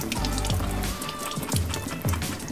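Running tap water splashes in a sink as pumpkin seeds are given a quick rinse, a steady close wash with a few louder gushes and no talk.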